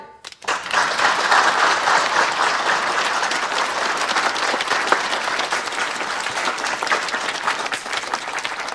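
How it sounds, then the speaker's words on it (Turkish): An exhibition audience breaks into applause for Yaşar Bey: a loud, sustained, dense roar of many clapping hands that starts abruptly and holds steady for several seconds. "bütün alkışlar Yaşar Bey için"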